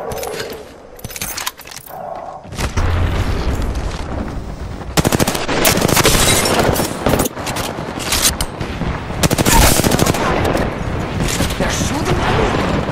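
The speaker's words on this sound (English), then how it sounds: "They're shooting at me!" Loud, close gunfire in Apex Legends, with rapid automatic bursts and heavy shots in quick succession, set among game effects while a player talks over it.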